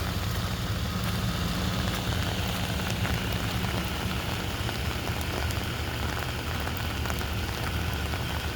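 Steady rain pattering on water in a roadside ditch near a pumping station, a dense, continuous hiss of drops with a low rumble underneath and no voices.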